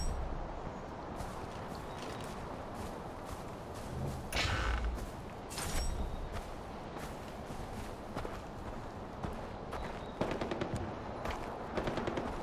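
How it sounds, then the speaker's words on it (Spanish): Bursts of gunfire in the video game Far Cry 4, scattered shots and short rapid volleys amid rustling and movement, moderately loud with no speech. "Pero queréis dejar de tirar tiros ahí a lo tonto, gastar munición ahí."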